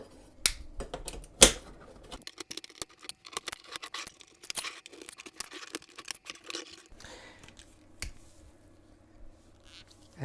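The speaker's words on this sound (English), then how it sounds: "So I'm going to take these 8 clamps off." Metal clamps being unclipped from the housing of a cheap 200W LED flood light, a string of sharp close clicks and snaps with scraping and handling noise, no talk.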